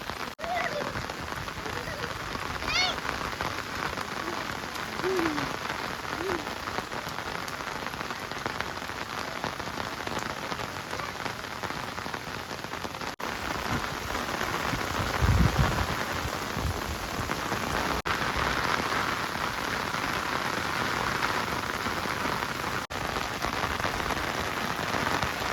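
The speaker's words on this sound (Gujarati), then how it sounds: "વરસાદ અત્યારે પાછો વધી ગયો છે અને વરસાદ એવો સારો એવો અત્યારે આવે છે" Heavy rain pours steadily in a village, a dense continuous hiss of drops on surfaces that swells slightly midway, with a faint low rumble around the middle.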